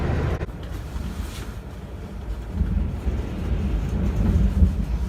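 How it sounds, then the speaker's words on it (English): Strong windstorm gusts roar around a diesel truck in a steady, dense rumble that swells slightly louder toward the end, with no talk. "Oh my God, you can hear the wind."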